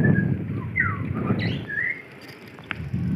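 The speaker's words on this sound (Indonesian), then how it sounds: "Murai." Varied, liquid whistled phrases from a magpie robin at middle distance near a reservoir in Imogiri, Indonesia, sliding notes over a rough background rumble like wind or a passing engine.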